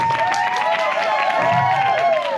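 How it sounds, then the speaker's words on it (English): Audience applause and cheering for costume contestants at a Disney cosplay expo, a steady dense wash of clapping with whoops and voices mixed in throughout. "One final round of applause for all of our contestants."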